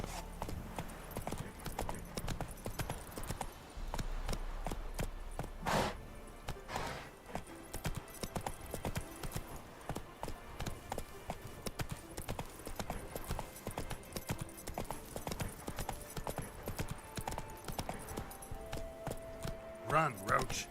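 Roach, Geralt's horse in The Witcher 3: Wild Hunt, gallops with a steady, rapid clip-clop of hooves throughout, a brief whinny, and background game noise.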